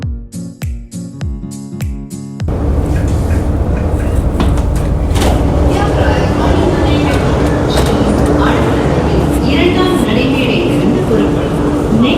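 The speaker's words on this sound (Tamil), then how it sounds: "ஸோ மெட்ரோக்காக வெயிட் பண்ணிட்டு இருக்கோம்." A short melodic chime is followed by the loud, steady rumble and rattle of a metro train pulling into a station in Chennai, with people talking over the noise.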